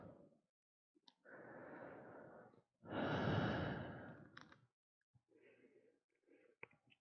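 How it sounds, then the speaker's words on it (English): Slow, deep yoga breaths, a long airy inhale followed by a fuller, louder exhale, then softer shorter breaths trailing off, close and quiet with pauses of silence between. "Two more rounds of breath here."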